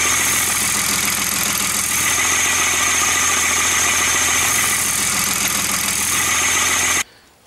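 A diesel car engine idles steadily and close by with a constant rumble and rattle, cutting off abruptly near the end.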